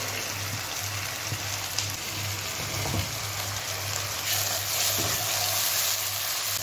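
Chopped tomatoes fry in a pan of liver masala, giving a continuous close sizzle with soft stirring scrapes and no talk.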